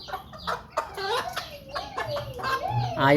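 Chickens cluck and chatter in short, loud bursts at close range, mixed with a rising squawk and other nearby farmyard bird calls.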